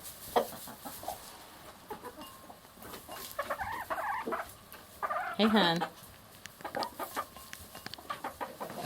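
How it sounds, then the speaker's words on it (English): Two friendly backyard roosters crowing and clucking among hens, with short calls scattered across the stretch and one louder, drawn-out call near the middle, over a quiet outdoor background with a voice briefly heard. "we're lucky to have two friendly, happy roosters"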